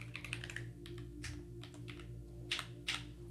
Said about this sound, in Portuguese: tô digitando errado